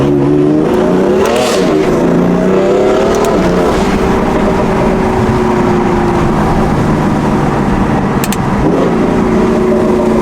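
A BMW M4 engine idles with a steady, close drone, rising in two short revs early on and another near the end, with no talk over it.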